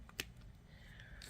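A single sharp snip as a length of beading wire is cut for a bracelet, close but very quiet, followed by faint handling noise.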